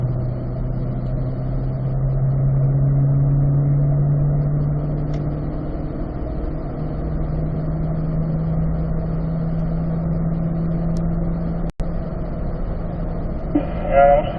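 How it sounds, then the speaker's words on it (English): A car holds fifth gear down a race track straight, its engine droning steadily with a slowly rising pitch under constant wind and road noise, ending with a sharp click and a brief rattle. "We'll go to fifth gear here on the straight, fifth on the straight."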